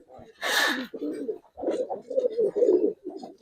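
Giribaz pigeons coo nearby in low, throaty rolling phrases, a few repeated calls with short gaps, under a brief louder burst of rustle or voice.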